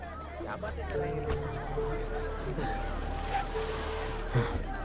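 A crowd gathers outdoors, with a steady hubbub of overlapping voices and chatter, some gasps, and sustained tones running through the murmur at close to moderate distance.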